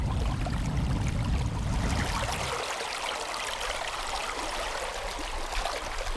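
River water rushing steadily over a shallow riffle, a continuous nearby burble with a heavier low rumble for the first couple of seconds that then thins to a brighter, even flow.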